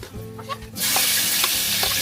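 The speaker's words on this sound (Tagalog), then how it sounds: "Igisa na po si Insang Arnel." Garlic hits a hot pan and bursts into a loud, even sizzle that holds steady after a quieter moment, with a few soft stirring scrapes, close up.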